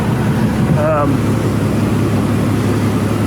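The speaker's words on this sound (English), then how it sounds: "I know your bus is loud. I've got it running right now." A school bus engine idles nearby with a steady low rumble, and a brief voice cuts in over the constant drone.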